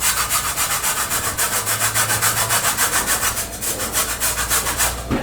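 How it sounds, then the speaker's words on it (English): A lemon being grated over a bowl to make zest, giving a steady, rhythmic scraping rasp of quick close strokes with no talk. "If you just grate however much lemon you want into your bowl."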